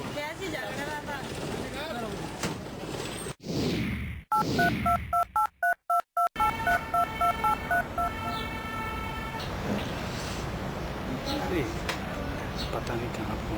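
A telephone keypad dialed by hand, a quick run of distinct touch-tone beeps in irregular rhythm, loud and close after some rustling, then a faint line tone and background noise.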